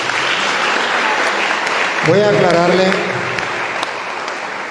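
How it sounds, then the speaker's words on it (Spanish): A church congregation applauds steadily throughout, a broad wash of clapping that stays fairly loud while someone speaks briefly over it in the middle. "un aplauso para la hermana"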